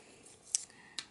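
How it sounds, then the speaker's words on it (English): Scissors snip the end of a paper-craft ribbon bow, two short crisp cuts about half a second apart, close and quiet against a faint room hush. "Grab our scissors. I'm going to trim that end properly."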